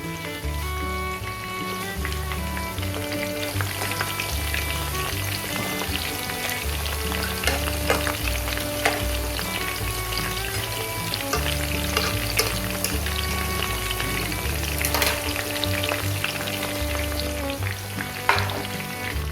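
Chicken 65 frying in oil on a tile stove, a constant loud bubbling sizzle with dense crackles, spiky pops and some low rhythmic thumping underneath, close and unbroken, with nobody speaking.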